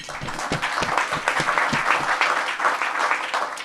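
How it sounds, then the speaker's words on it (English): At a security industry awards session, an audience applauds award winner McKinsey: a short burst of fairly close, brisk clapping with distinct individual claps standing out, lasting a few seconds. "So a quick round of applause for McKinsey."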